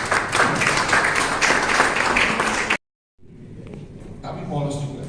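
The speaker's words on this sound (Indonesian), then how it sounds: "Boleh tepuk tangan buat puisi yang" An audience at a solo art exhibition opening in a Menteng, Jakarta gallery applauds a poem reading; dense, lively clapping runs for almost three seconds, then cuts out abruptly, followed by quieter room noise and a voice.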